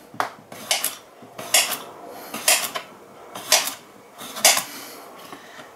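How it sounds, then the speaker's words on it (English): Knife chopping cucumber on a cutting board for a salad of lettuce and baby spinach, about five evenly spaced crisp cuts, each with a short clatter, close up and with no talk. "I'm going to cut up some cucumber"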